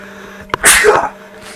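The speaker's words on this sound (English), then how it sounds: "enjoy this little break while I'm sneezing my nose" A single sharp human sneeze, loud and close, with a quick intake of breath and then a burst, in an otherwise quiet moment during L.A. Noire gameplay.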